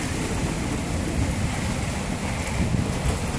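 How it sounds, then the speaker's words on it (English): Wind gusts buffet a hilltop during a wet storm, a continuous loud roar and rumble with rain hiss mixed in and low microphone buffeting, no voices. "We're in a slight storm, bit windy, bit wet."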